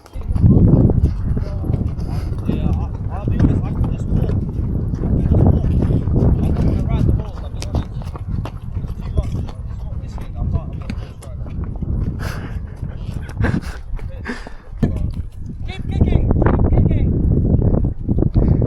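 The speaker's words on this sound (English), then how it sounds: "I'll get off the horse." Horse hooves clip-clop steadily on desert ground while the animal is ridden, close and fairly loud, with a rider's voice talking over much of it.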